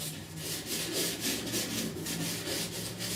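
A sanding block works steadily over primer and filler on the rusty roof of a 1969 C10 truck, giving a close, continuous rhythmic rasp with regular back-and-forth strokes.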